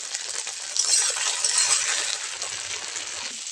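Mustard oil and salt going into a hot pan for okra curry, a soft steady sizzle with light crackling and faint scraping clinks, close and moderately quiet, no voices.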